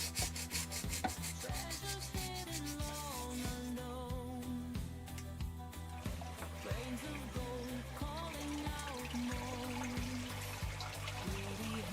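A mat is scrubbed by hand to clear a whitish film, giving repeated rough rubbing strokes in an uneven rhythm with some wet trickling, close and fairly quiet.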